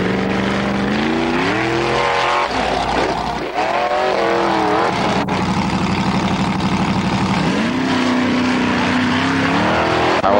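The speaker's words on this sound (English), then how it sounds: "Harald Pedersen, the ice car, our leader, and another great run from him." An ice racing car on a competitive run, its engine roaring loud and close with rising and falling revs as it shifts and accelerates, continuous throughout with no talk over it.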